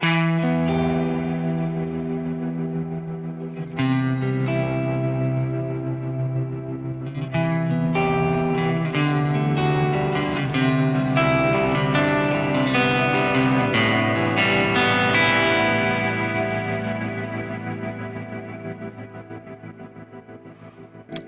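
An electric guitar plays sustained chords and notes with a pulsing, panning tremolo and a roomy reverb tail, continuous throughout.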